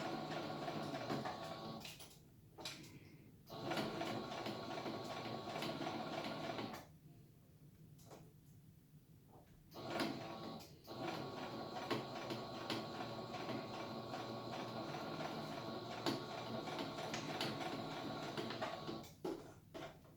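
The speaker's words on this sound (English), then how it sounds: "You just have to stitch slowly and gently turn your material as you go." A sewing machine stitching a fabric face mask, with a fast mechanical whirring hum in long runs separated by brief pauses as the material is turned, close and steady, with no voices.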